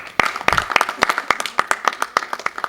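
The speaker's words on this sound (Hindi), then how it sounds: "उनके लिए बहुत सारी तालियां" Audience at a Noor Jahan stage drama clapping in a quick, uneven run of sharp, close hand claps that carry on steadily for a few seconds.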